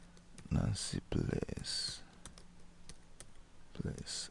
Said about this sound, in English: let's type the address or the what's it called, email